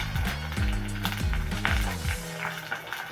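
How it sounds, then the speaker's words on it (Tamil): Sliced onions and green chillies fry in a pan with oil, a steady close sizzle broken by repeated scraping and stirring strokes that stop near the end. "அதில் 2 பெரிய வெங்காயம் சேர்க்குறேன்."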